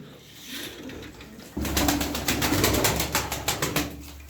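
A young female pigeon in a Turkish flying-breed loft coos softly, with a low rhythmic throaty call rising after a quiet start, accompanied by fluttering and scuffling close by.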